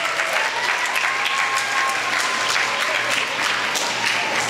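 Steady audience applause at a Trinidad and Tobago Sanfest primary preliminaries performance, a thick unbroken wash of clapping lasting several seconds, with a low hum underneath.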